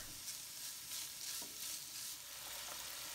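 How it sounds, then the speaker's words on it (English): Minced aromatics and tofu fry and sizzle in a pan on medium heat, with a steady hiss and soft scraping stirs at intervals, close and alone. "Stirring frequently, you want to make sure it continues to cook on medium heat for about 5 minutes."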